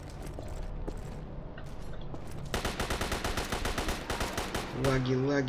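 Gunfire in the video game Stalker Online: a rapid run of sharp shots breaks out mid-clip over rough ambient game noise, followed by a brief tonal sound near the end.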